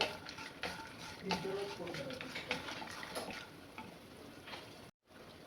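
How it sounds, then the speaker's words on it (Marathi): Split chickpeas dry-roasting in a pan with peanuts give a steady, close crackle and sizzle, broken by soft scraping and clicking from stirring, with a short gap of silence near the end. "त्याच्यात आपल्याला हे डाळे घालून भाजून घ्यायचे."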